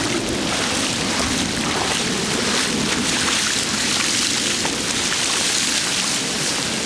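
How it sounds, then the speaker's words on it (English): Strong wind roars steadily through a flooded neighborhood, a loud continuous rushing with a rain-like wash and no break, no voices heard. "the wind is actually hitting us really hard"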